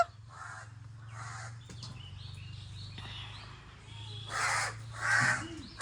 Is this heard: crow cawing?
yes